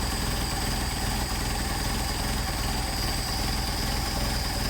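Mercedes 190SL engine fitted with Solex 44PHH carburetors idling at a very low speed, a steady, close, continuous mechanical hum and rumble that stays even throughout, with no voices.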